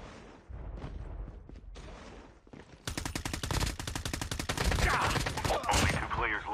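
Rapid automatic gunfire in the mobile shooter Call of Duty Mobile, a dense burst of close, loud shots after a few scattered earlier pops, with game effects layered under it and no talk.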